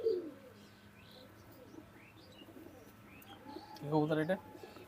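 Pakistani teddy pigeons at a sale coo softly in the background, with a clearer, louder cooing burst near the end over low ambient noise.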